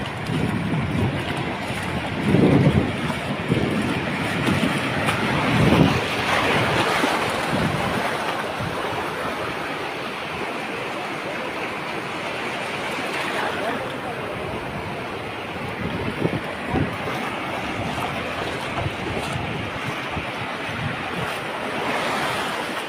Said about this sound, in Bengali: অনেক বড় একটা ঢেউ আসতেছে, আর ঢেউয়ের গর্জনটা অসাধারণ